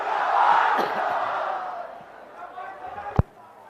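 Crowd at an outdoor election rally in Jharkhand, a swell of cheering and shouting that peaks early, then fades to a lower murmur before a single sharp thud near the end.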